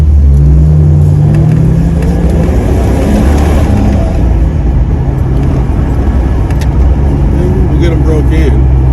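A Jeep XJ fitted with FAPO P3 shocks drives along with a loud, steady engine drone and road rumble, heard from inside the cabin, with a slight rise in revs early on and faint rattles.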